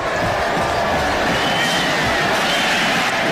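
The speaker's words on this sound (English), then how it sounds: "That's why you hear the applause from the Hokie fans in the background." Hokie fans at a 2007 Virginia Tech versus Boston College ACC championship football game applaud and cheer in a dense, continuous crowd roar that holds loud and even throughout.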